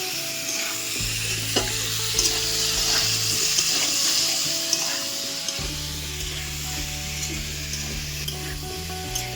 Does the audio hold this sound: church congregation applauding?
no